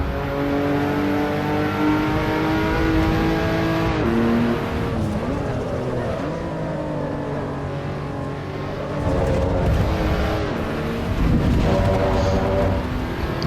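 Car engine in Assetto Corsa Evo sliding through a drift, a steady droning tone with rising and falling pitch sweeps as the revs change, loud and continuous with faint tyre noise and no talk.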